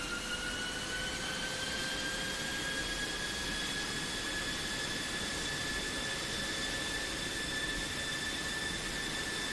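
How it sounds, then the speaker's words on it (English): An aircraft engine in a flight sim video game holds a steady, loud whine, with rising tonal lines over a dense roar that stays constant and close throughout. "I only fly this aircraft so that I can crash them and then listen to the engine wind up again when I respawn"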